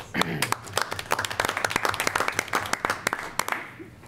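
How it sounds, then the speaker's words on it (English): A school board meeting audience applauds staff, teachers and coaches, with dense clapping running steadily for about four seconds before tapering off, and scattered voices mixed in. "Big round of applause for all of them."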